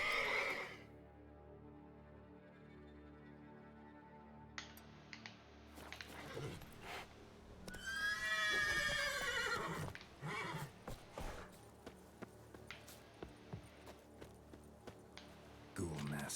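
Roach, the horse in The Witcher 3, lets out a loud whinny mid-clip, framed by hoof clops and game ambience, with a voice briefly heard.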